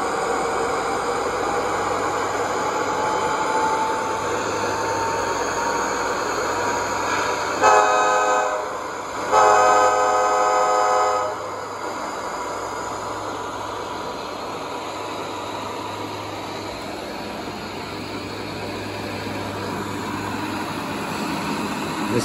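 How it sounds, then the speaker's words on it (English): A Railpro sound module in an Aristocraft E-8A model diesel locomotive gives a steady engine drone, with two loud horn blasts in the middle before the engine hum carries on alone. "Throttle advances as I move the throttle on the controller."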